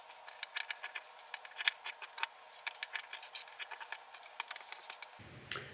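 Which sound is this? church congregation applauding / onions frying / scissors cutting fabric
scissors cutting fabric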